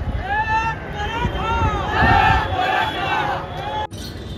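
A dense crowd of Marathas packs CST station in Mumbai, with loud overlapping shouts and raised voices swelling into a steady roar and filling the space, then briefly cutting off near the end.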